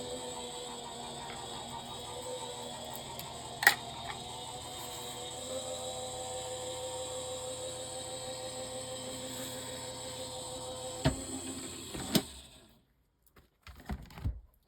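An electronic cutting machine slices card pieces with a steady mechanical whir and faint motor hum throughout, a couple of sharp clicks along the way, then the motion stops near the end and soft handling noises follow.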